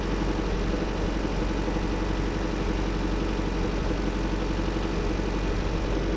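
A 2014 Chevy Volt's Ecotec engine idles with a steady, continuous low rumble. The level holds even from start to end, and no voices are heard.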